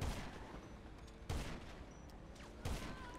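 Three loud, sharp gunshots from GTA 5 Online, spaced about 1.3 seconds apart, each one hitting hard and echoing out over a steady game background, with no voices.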